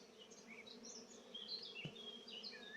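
Bees fly around a Warré beehive, their buzzing a soft, continuous drone with individual insects passing close and drifting away, fairly faint and with no talking.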